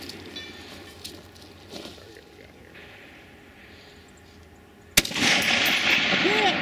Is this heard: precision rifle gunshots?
yes